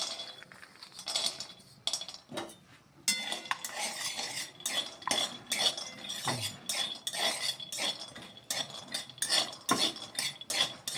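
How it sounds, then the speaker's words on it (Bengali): Peanuts being roasted in a pan for homemade Horlicks rattle and scrape under a spoon, giving busy metallic clinks and stirring scrapes that continue steadily and sound close. "এখন আমি এখানে এই যে বাদামটা বাদামটা ভেজে নিচ্ছি দিয়ে দিচ্ছি"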